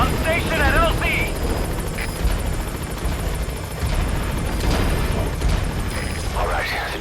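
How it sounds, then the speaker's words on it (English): A military helicopter touches down at a landing zone in Metal Gear Solid V: The Phantom Pain, its rotor wash and engine roar loud, close and continuous throughout, with brief faint voices and chirps over the steady din. "Alright, the chopper's touching down."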